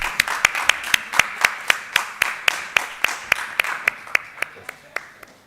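Rhythmic, evenly spaced claps ring out at a formal dais event, a steady beat of sharp hand claps that sounds like a small group clapping in unison, close and clear.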